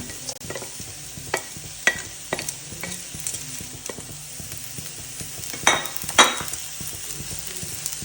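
Cabbage and carrot stir-frying in a pan for restaurant-style chicken noodles, a soft steady sizzle under repeated scraping and clinking of a utensil against the pan, with no talking.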